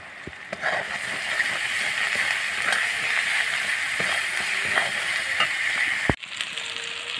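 Ginger and garlic paste frying in hot oil with dry red chillies and bay leaf, a loud, close, continuous sizzle with small crackles and a stir scrape, ending in a sharp clatter near the end.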